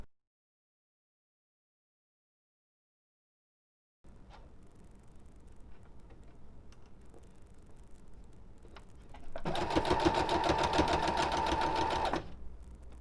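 A sewing machine stitches along a skirt's long edge, starting after silence with faint handling noise and then a loud, close, steady run of stitching lasting a few seconds.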